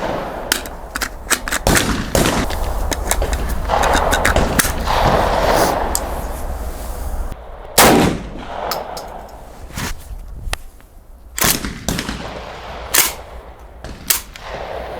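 Saiga-12K tactical shotgun with a tuning and modernisation kit firing a rapid series of sharp, loud blasts, some close together and others spaced out, each with mechanical action clatter, over a noisy outdoor background.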